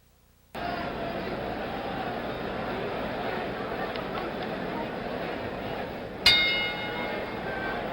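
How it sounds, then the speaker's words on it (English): Boxing ring bell sounding the start of round 4 in a 1977 heavyweight bout, a single sharp clang ringing out near the end over a steady crowd hubbub in the arena. "The bell for round 4."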